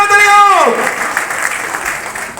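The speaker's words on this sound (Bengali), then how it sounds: "সবাই জোরে করতালি হোক" An audience at a Human Rights Day cultural programme breaks into applause right after a loud sung or called-out voice, the clapping a dense, fairly even patter that carries on to the end.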